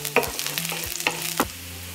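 Chopped garlic cloves fry in heated oil, a soft steady sizzle broken by a few sharp scrapes and clicks of stirring, close and fairly quiet, with no voices.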